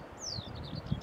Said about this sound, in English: Yeah, it's a black cap.